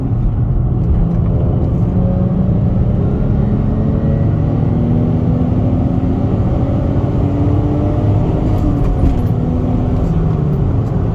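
A 2004 Infiniti G35 with a six-speed manual drives along, its engine drone and road rumble steady and loud from inside the cabin, with pitch slowly rising and falling as it accelerates, no voices heard.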